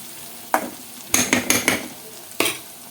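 Eggplant with onions, cumin and salt is stirred in a hot pan: five or six sharp scraping, clattering strokes at irregular intervals over a quiet sizzle, with no voices.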